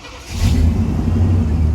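A car engine idling roughly as if about to stall gives a steady, close, low rumble that swells slightly in the first half-second and then holds.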